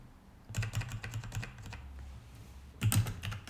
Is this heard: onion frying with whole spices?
no